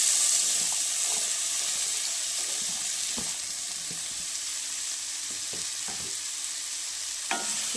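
Onions dropped into hot oil crackle into a broad, steady sizzle, loud at first and then settling, with occasional light taps of a utensil nearby.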